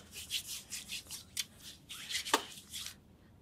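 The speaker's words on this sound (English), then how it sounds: "So we're going to sanitize and then rub it in until it's air dried." Hands rub hand sanitizer together until dry, making quiet, rhythmic swishing strokes in a series of short bursts.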